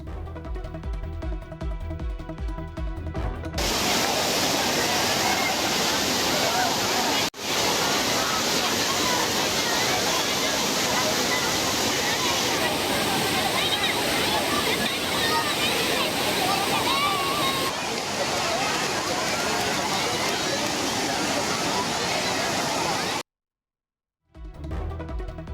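Water pours over Kodiveri dam like a waterfall, a loud, dense, continuous roar that follows a few seconds of a voice at the start and cuts out briefly near the end.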